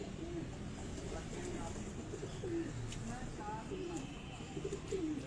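Repeated low, rolling coos come from a prized pigeon of a pigeon keeper on a rooftop in Kasur. The calls recur through the stretch over a constant background hum, with people talking close by.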